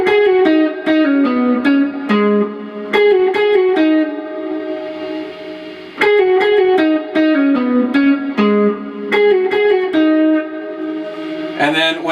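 Lead electric guitar for the instrumental part of a song, heavy with effects and reverb, plays a repeating melodic phrase of picked notes, loud and up close, with no talking.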